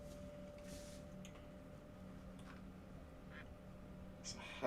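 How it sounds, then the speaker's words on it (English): Faint duck quacking in the background of a call, with a steady low hum running under it and a few soft, scattered quacks spread across the clip. "No more quacking."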